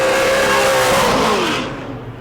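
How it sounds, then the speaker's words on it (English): A super late model race car on a qualifying lap at New Smyrna roars past at high revs, loud and close, with the engine pitch sliding downward as it moves away and fades. "Coming around for his second qualifying lap in his checkered flags."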